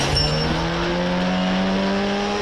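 A Koenigsegg sports car in the game Indian Bike Driving 3D, its engine droning loudly with steady tonal whine and gradually shifting pitch, continuous throughout with no talk.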